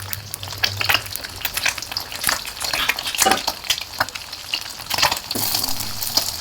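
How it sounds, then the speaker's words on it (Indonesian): Eggs fry in a little oil in a wok, crackling and sizzling steadily with scattered sharp pops and spatula scrapes, close and with no voices. "untuk menggoreng telur ceplok terlebih dahulu"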